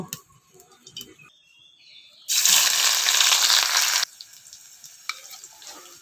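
Chopped onion and garlic hit hot oil for cooking dried fish (chapa shutki bhuna), giving a loud, steady sizzle for about two seconds that then drops back to faint kitchen noise.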